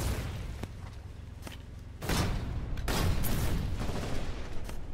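Gunboat guns fire in a naval battle in the video game Foxhole, with dense overlapping shots and heavy booms over a steady rumbling background, louder bursts stacking up after the opening seconds and no voices.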